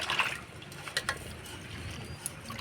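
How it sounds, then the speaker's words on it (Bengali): Cut vegetables being washed by hand in a pot of water, quiet splashes and sloshing with a few brief sharper clinks, close and faint. "সবজি কাইটে ধুয়ে নিলাম"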